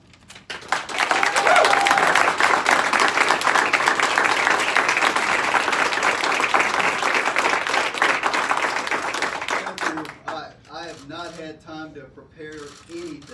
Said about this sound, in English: I love the applause, and I expect that every time.